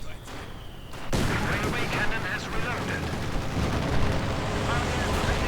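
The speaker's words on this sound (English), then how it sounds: "Grenadiers are getting blasted by the T-34 and field guns." A T-34 tank and field guns open fire in a strategy game, a dense, loud, continuous barrage of gunfire and explosions kicking in sharply after a brief quieter moment, with a voice speaking over it.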